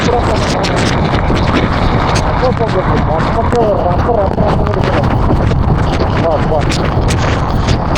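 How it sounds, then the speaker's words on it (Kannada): A dense, steady roar of heavy rain and wind noise at Male Mahadeshwara Hills fills the whole stretch, loud and unbroken, with faint voices buried underneath. "ಗಾಳಿ ಮಳೆ ಬರುದು."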